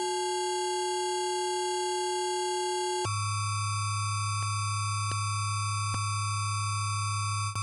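A SoloRack software synthesizer tone played with 8x oversampling, a steady, clean, buzzy tone that jumps to a new pitch partway through and then holds, with faint periodic clicks and no voices.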